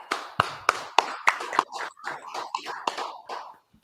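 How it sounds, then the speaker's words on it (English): An audience at a Harlem scripture gathering claps in a loose, steady burst of sharp claps for several seconds that thins out toward the end. "Well, clap it up."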